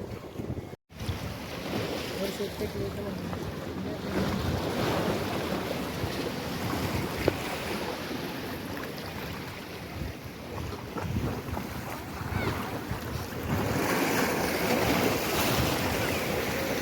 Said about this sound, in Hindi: पानी का आवाज़ देख कैसा आ रहा है।